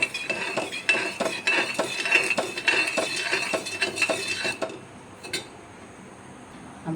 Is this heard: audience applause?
no